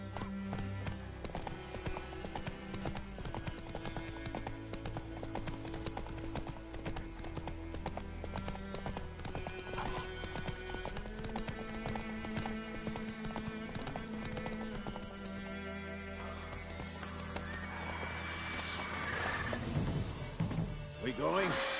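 Galloping horse hooves in The Witcher 3 video game: a fast, steady clip-clop rhythm runs throughout, under loud, dense game music.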